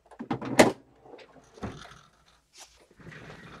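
A desk drawer is pushed closed with a sharp knock, followed by light rustling and small handling sounds, close and moderately loud.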